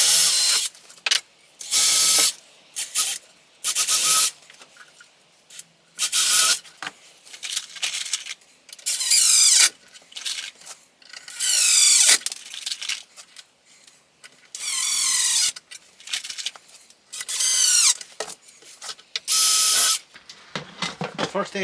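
A power screwdriver drives screws into wooden pieces for a wall-mounted fixture, with repeated loud whirring bursts of a few seconds each separated by short pauses and quiet handling noises.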